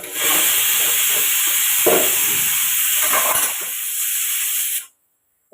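A small pressure cooker on a home kitchen stove lets out one loud, steady hissing whistle of steam that runs for nearly five seconds, then cuts off abruptly into silence.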